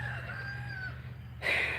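Small chickens in a backyard coop give soft, high clucks and short calls, with a louder burst of squawking at the very end. No voices are heard.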